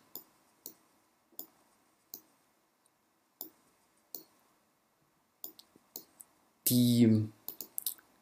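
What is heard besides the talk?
computer mouse clicking on a software icon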